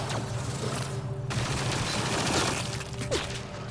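Dense, continuous gunfire from the sci-fi shooter Mass Effect: Andromeda, a busy barrage of overlapping shots and impacts over a steady low game soundscape, loud throughout with a brief dip near the start.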